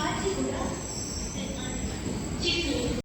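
The Venkatadri Express, a lorry cover caught in its pantograph, pulls into Kadapa station with a continuous rumble and a thin high whine from wheels or wires, and people talk over the noise.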